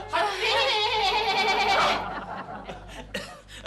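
A goat bleats loudly and close in a long, wavering call lasting nearly two seconds, set in a Hindi family comedy scene. Softer rustling and faint movement follow it.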